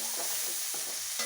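Onions sautéing in a pan while cooking Tamil-style vatha kuzhambu, with a steady soft frying hiss and a few short stirring scrapes; it is close and quiet, and nobody speaks.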